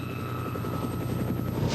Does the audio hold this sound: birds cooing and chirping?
no